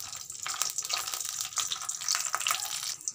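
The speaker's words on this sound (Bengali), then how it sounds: "প্রথমে এই ঘিয়ের মধ্যে আমি কাজুগুলো দিয়ে একটু ভেজে নেব।" Cashews fry in a large spoonful of ghee with a continuous bright crackling sizzle, steady and close, with no voices.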